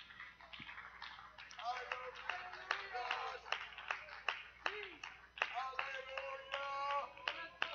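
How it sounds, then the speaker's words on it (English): Congregation clapping along in a church service, with sharp irregular hand claps over a preacher's voice and crowd voices, fairly close and steady throughout. "Clap your hands and praise him. Clap your hands and shout hallelujah."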